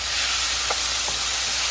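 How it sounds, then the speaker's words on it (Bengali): Small fish fry in a pan with a steady, close hiss of sizzling oil and a couple of soft pops. "এদিকে আমার মাছগুলো ভাজা হয়ে গেছে"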